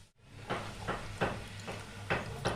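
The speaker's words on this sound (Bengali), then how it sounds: "গ্যাসের স্টিমটা এটা হালকা করে একটু ভাজতে হবে, যাতে ভেতরটাও ভালো করে ভাজা হয়।" Gaja sweets fry in oil over a low gas flame, the sizzle swelling in a handful of soft, evenly spaced surges, close and fairly quiet.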